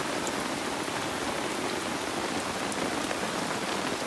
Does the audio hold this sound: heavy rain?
yes